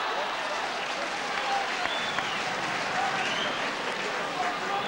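A rugby league crowd at a 1982 Bradford versus Australia Kangaroo Tour match cheers and applauds in a steady, distant roar with a broad wash of noise and occasional whistles.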